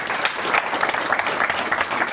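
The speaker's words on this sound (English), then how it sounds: "Give them a massive round of applause" Audience applause for panelists at a treasury career event: dense, continuous clapping from a sizable crowd, loud and close, with no voices over it.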